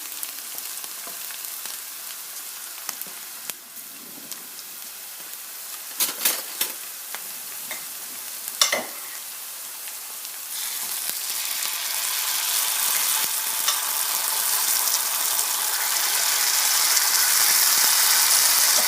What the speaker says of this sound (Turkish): önce soğanlarımı pembeleştirdim